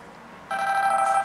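A Samsung Galaxy S Wi-Fi 3.6 rings like a phone, its steady electronic ringtone starting abruptly about half a second in and holding loud and close until it cuts off.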